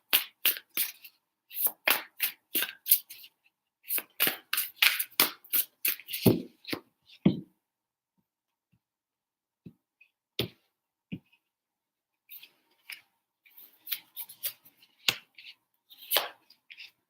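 Tarot cards shuffled by hand in a quiet room, close and crisp: rapid bursts of riffling slaps in rhythmic runs, a pause, then scattered taps and a few more shuffles.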